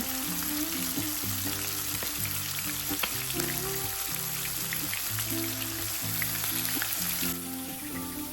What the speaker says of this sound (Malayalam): ചിക്കൻ ഫ്രൈ ചെയ്യുമ്പം ആദ്യത്തെ ഒരു 2 മിനിറ്റ് ഹൈ ഫ്ലെയിമിലിട്ടിട്ടോ ഫ്രൈ ചെയ്യാം.